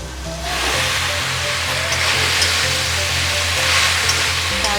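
Boiled, drained pasta hits a hot wok and sizzles loudly, a steady broadband frying hiss that starts abruptly and holds evenly to the end, with a faint low hum underneath.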